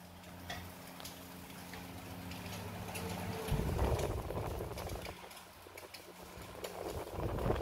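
A cast-iron Mitsubishi desk fan with a 30 cm blade span switched to its top speed, giving a steady airy whoosh with a low motor hum and light ticking, close up with no talk.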